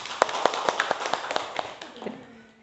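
An audience at a school positive-culture dissemination session claps in a brief, fairly close burst of sharp, regular hand claps that fade out after about two seconds.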